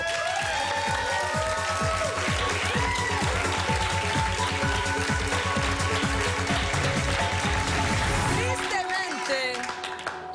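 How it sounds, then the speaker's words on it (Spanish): Sustained studio audience applause from a television dating show, dense and steady clapping with some cheering throughout, dropping slightly near the end. "Y por qué darle un gran aplauso en este momento"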